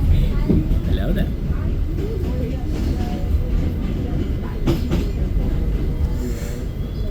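An R68 D subway train runs Manhattan-bound between Bay Parkway and Atlantic, giving a loud steady rumble with rattling wheel clatter from inside the car and voices mixed in.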